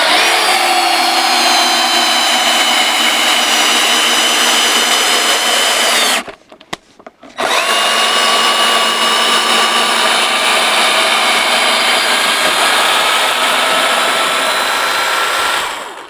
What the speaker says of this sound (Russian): Закрутим теперь саморез сотки Metabo